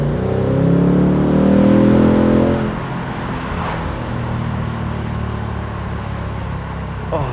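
A 2026 Ford Mustang GT accelerates hard from close by. The engine roars and climbs in pitch, then drops briefly at a gear change and pulls on with a deep, steady drone.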